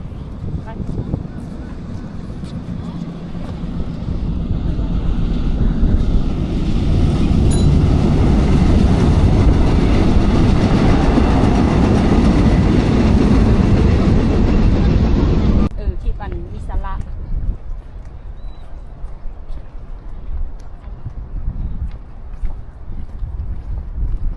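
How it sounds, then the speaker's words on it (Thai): A train rumbles loudly past a seafood market at Sorae in Incheon, South Korea, building to a sustained roar for about fifteen seconds before cutting off, leaving quieter market ambience behind. "นี่ดู อู้รถไฟมา"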